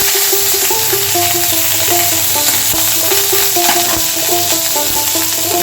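Ginger paste goes into hot oil with tempering spices, dried chilli and a bay leaf, and a steady sizzle and stirring sit under a continuous melodic music track, with no voices.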